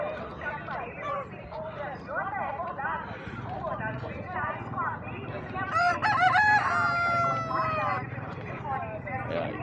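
Roosters crowing and hens clucking at a bustling open-air poultry and pig market in Santa Cruz do Capibaribe, several crows rising over steady market chatter, with people talking throughout.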